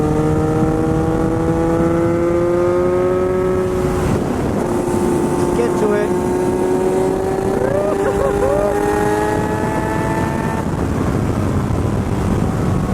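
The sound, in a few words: 2019 Kawasaki Z900 motorcycle riding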